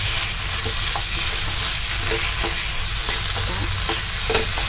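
Prawns for a Malvani prawn curry sauté in a pan, a loud continuous sizzle close by with repeated scraping stirs of a spatula running through it, no voices.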